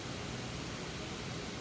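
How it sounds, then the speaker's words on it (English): An outdoor water fountain splashing continuously, a steady broadband rush with no breaks or variation. "Please excuse the noise of the fountain in the background here."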